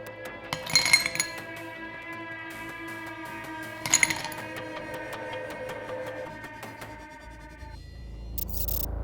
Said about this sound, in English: Top with ice and bucket glass.